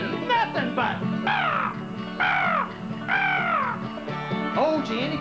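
A voice imitates a crow cawing during an old-time minstrel show, giving several loud, drawn-out caws in a steady rhythm over a background of chatter and instruments.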